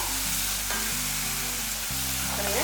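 Steady, close sizzling of onions, garlic and spices sautéing in hot oil, a continuous crackle with a low hum underneath.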